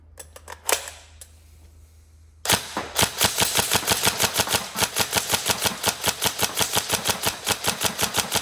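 Tokyo Marui MK18 NGRS airsoft gun, built around 3.2 ammo, test firing: a few scattered single shots, then a sharp burst and a long run of rapid, evenly spaced loud clacking shots, close by, with no talk.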